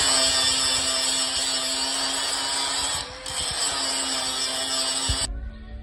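Angle grinder working steel on a broken tractor attachment arm, a loud steady whine with gritty grinding noise that dips briefly, then cuts off near the end.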